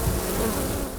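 Honeybees buzzing around hives in the Skagit Valley, a dense, steady, close-up hum of many bees with no talking.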